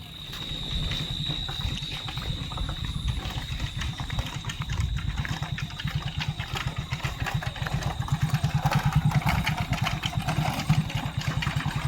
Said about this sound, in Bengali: সবাই বাইকে করে বাড়ি ফিরছে